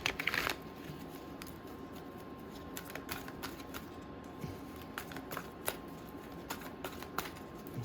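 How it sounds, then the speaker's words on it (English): Tarot cards shuffled by hand in a quiet room, a soft riffle at the start followed by scattered faint taps and flicks as the deck is worked. "Now I'm going to do a different kind of shuffle."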